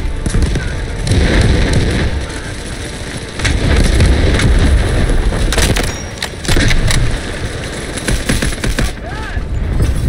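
An artillery barrage in the Delta Force multiplayer shooter pounds out dense, rapid clusters of booming and crackling blasts, loud and close, in waves separated by short lulls, like heavy gunfire mixed with explosions.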